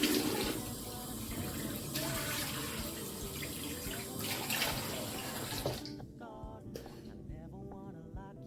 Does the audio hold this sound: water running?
yes